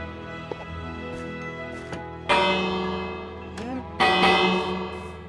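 A bell rings in Minecraft Bedrock Edition beside a barn, giving three or four clear metallic strikes, each with a long ringing decay, over a steady background of game ambience.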